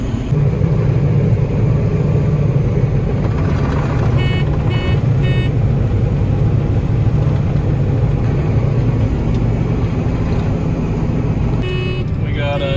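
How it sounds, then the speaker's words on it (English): Two pickup trucks drive past on a rural Kansas road during milo harvest, a loud close engine rumble and road noise that runs throughout, with brief high tones and a chirp near the end. "We got 2 neighbor trucks going by."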